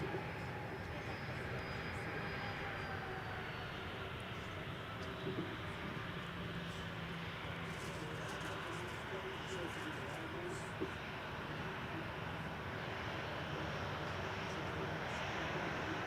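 A Southwest airliner landing on runway 12 right at Minneapolis–Saint Paul, heard as a steady, distant broadband engine roar with a faint high whine that holds level throughout.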